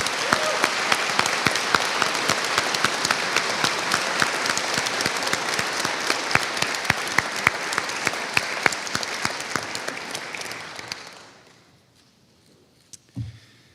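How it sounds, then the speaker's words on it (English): Sustained audience applause at a graduation hooding ceremony, a loud, dense wash of clapping for about eleven seconds before fading out, followed by near silence and one brief thump. "Let's give a big round of applause to our entire class."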